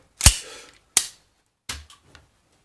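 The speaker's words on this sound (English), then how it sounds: "It's the Glock 19C. Let's safety check it." A Glock 19C handgun being safety checked with its slide racked: three sharp, close metallic clacks, the first loudest, separated by short pauses with no talking.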